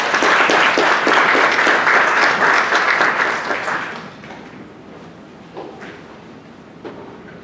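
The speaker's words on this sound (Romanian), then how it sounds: "Vă rog, în aplauze, Cătălin Năstăsoi." A conference audience gives a loud, full round of applause for a presenter that holds for about four seconds, then fades to scattered claps and a few soft thuds.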